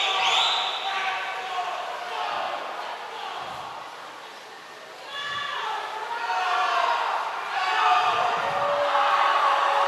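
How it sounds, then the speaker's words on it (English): Boys cheering and shouting in an echoing indoor pool building during a varsity swimming meet, a busy crowd roar that rises and falls over several seconds, with whistle-like pings and a voice talking over it. "Boys cheering everybody on."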